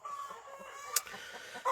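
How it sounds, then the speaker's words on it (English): Chickens cluck nearby in a brief burst, a few short squawks over quiet background noise. "Chickens are loud."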